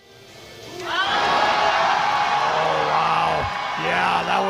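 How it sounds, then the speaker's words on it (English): A powerlifting meet crowd reacts to a red-lighted squat, swelling into a loud, sustained roar with whoops and yells, then a brief dip before shouting picks up again. "you can even hear the crowd's reaction to it"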